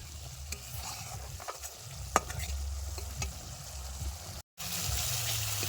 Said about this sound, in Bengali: মশলার এবার ভালো মতো তেল ছাড়া এসব অব্দি কষাতে থাকুন